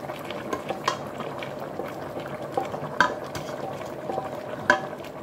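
Fried beef being stirred into half-cooked taro leaves in a pot for Fijian-style luau, a steady wet bubbling simmer with occasional soft scraping and clinks of the spoon, close and continuous.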